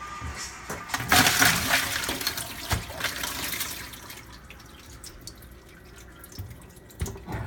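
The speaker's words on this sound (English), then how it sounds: "I'm just making a hole at the top so all the water inside can come out" Water trickles and drips steadily from a hole in the top of a block of ice, splashing loudly at first, then easing to a softer drain with occasional sharp knocks.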